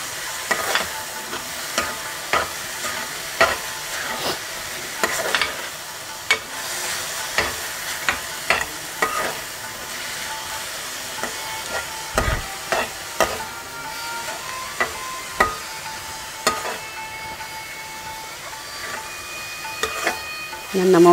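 Chili, coriander, mint, coconut and ginger-garlic paste frying in a pan for methi rice, a soft steady sizzle punctuated by regular spoon scrapes and taps, no talking.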